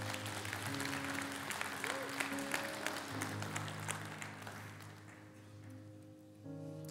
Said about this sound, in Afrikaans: Kan ek vra dat ons 'n lekker hande klap gee?